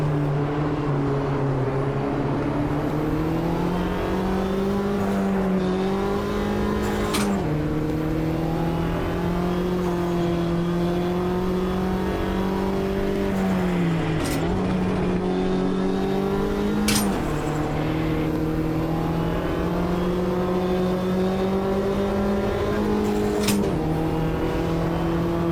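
Race car engines in the Automobilista 2 racing game drone steadily at high revs, pitch rising and dipping with shifts and corners, with a few sharp gearchange pops, constant and loud throughout with no talk.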